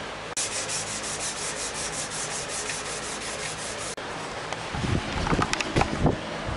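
400 grit sandpaper rubs steadily across a Nissan Skyline R33 GTST front bumper bar in a continuous close hiss, followed by a few louder scuffing and handling knocks near the end.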